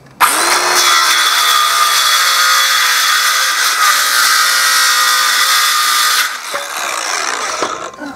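A power saw cuts through the wooden tail piece of an inkle loom, a loud close steady whine for about six seconds before dropping off, followed by a quieter mechanical run-down.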